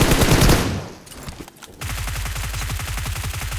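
Rapid automatic gunfire in the mobile battle game BGMI, loud and continuous bursts with a brief pause before a steady rattling stream resumes, no talking.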